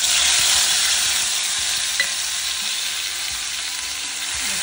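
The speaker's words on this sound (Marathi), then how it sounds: "मस्त परतून घ्यायची." Spice paste for spicy kat vada curry sautéing in hot oil, giving a steady, close, dense sizzle that runs throughout with a brief clink near the middle and no talking.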